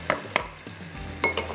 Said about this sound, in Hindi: तो थोड़ा सा इसकी भुनाई करेंगे